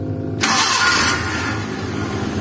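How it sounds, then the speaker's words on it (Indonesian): A 1997 Suzuki Carry 1.0 engine cranks and catches without throttle, a sharp burst of starter noise giving way to a steady, smooth idle hum. "Saya starter tanpa ngegas."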